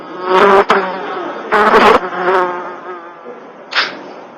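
Insects buzz close by in several short bursts, like flies or bees darting around the listener's head, heard alone in a humid summer scene in 1860s Washington.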